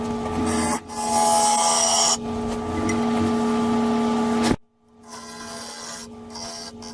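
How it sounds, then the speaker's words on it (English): Scraper cutting the inside of an Indian rosewood bowl spinning on a wood lathe: a steady rasping, scraping whir over the motor's constant hum, pausing briefly before the cut resumes. "I love using a scraper on the inside of the bowl."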